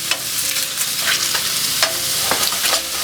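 Raw shrimp sizzle and crackle steadily in a hot frying pan, close and fairly loud, with occasional sharper pops and the scrape of stirring over the constant frying hiss.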